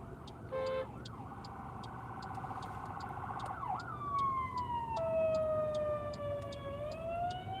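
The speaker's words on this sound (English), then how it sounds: "Some emergency vehicles back here." An emergency vehicle siren sounds on the road, heard from inside a moving car: a short yelp burst, then a steady wail, shifting into a sweeping high tone that rises and falls, fairly loud over constant road rumble.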